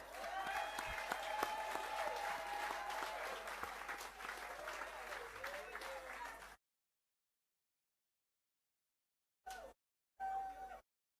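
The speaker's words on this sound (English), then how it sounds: "Let's give him a round of applause." Audience at a housing-unit handing-over ceremony in La Plaine gives sustained applause for about six seconds, a dense even patter of many hands, then silence broken by two brief bursts of clapping.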